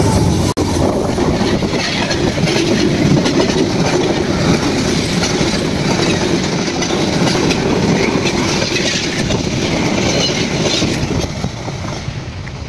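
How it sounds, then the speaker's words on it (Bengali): A metre-gauge express train rolls along at close range, its wheels grinding and rumbling against the rails in a loud, unbroken roar. "কিরকম একটা শব্দ হচ্ছে, এটা কিন্তু এই ট্রেনের লাইনের সাথে কিন্তু ঘর্ষণ খাচ্ছে"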